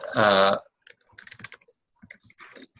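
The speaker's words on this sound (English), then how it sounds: "maybe if you're typing, could mute, just because just like hear a lot of clicking" Computer keyboard typing during an online meeting, a few quick scattered clicks following a brief spoken word, faint and close.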